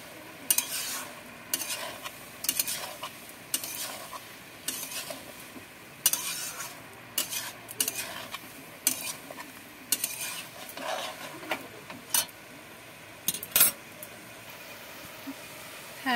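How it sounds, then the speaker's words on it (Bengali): A utensil stirs vegetables with spices, fried eggplant and lentil dumplings in a pan, giving repeated scraping clatters in irregular bursts over a soft sizzle. "দিয়ে আবার ভালো করে নেড়ে চেড়ে নেব।"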